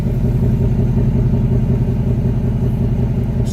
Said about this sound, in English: It's just a little idle warm engine rumble.